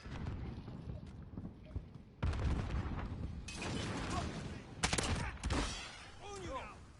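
Bursts of automatic gunfire and scattered shots crackle through a hardpoint match in a modern shooter video game, loud and close, with a player talking over parts of it.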